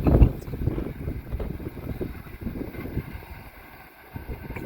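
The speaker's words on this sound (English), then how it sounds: "Yo, the wind it kicked up." Gusty wind buffets an outdoor station platform, a rough low rumble that surges loudest at the start and then eases and swells irregularly, with no clear speech.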